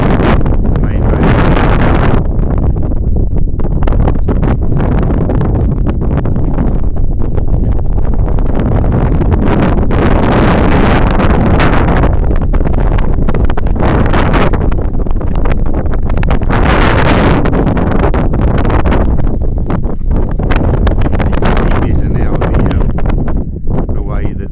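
Heavy wind buffets the microphone at the Bluff Hill lookout, a loud continuous roar and rumble throughout, with a voice faintly present under it.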